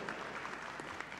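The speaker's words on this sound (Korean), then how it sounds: "큰 박수 부탁드립니다" Applause at an internet broadcasting awards ceremony, a brief burst of steady crowd clapping filling the whole short moment, fairly faint and even.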